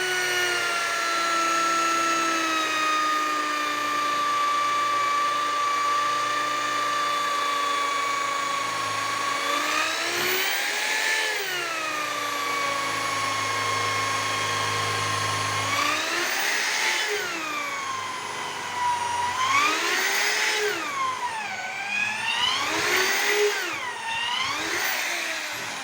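A power drill whines steadily while boring angled holes in a wooden INPA-model beehive box, its pitch dipping and rising as it bites in several short bursts toward the end.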